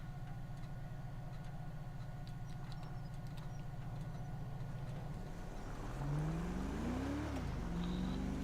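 Traffic driving past in the GTA 5 video game: a low, steady engine drone, then a nearer vehicle whose engine pitch rises and falls as it revs past near the end.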